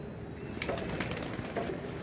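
Pigeons in a loft coo and rustle in a steady, moderately loud wash of soft bird sound, with a few brief sharper bursts that could be wing flaps, and no talking.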